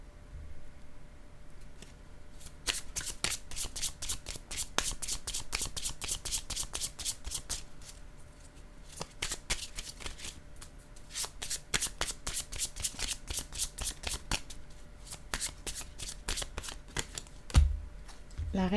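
Tarot cards being shuffled by hand, rapid bursts of crisp riffling clicks repeated in close, loud runs with brief pauses between, ending on a soft thump.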